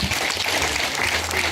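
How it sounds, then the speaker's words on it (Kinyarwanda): Audience applause at a Kinyarwanda-language ceremony led by an MC, dense continuous clapping at steady loudness throughout, with a low hum underneath. "yicarire na pare babakomera amashyi menshi."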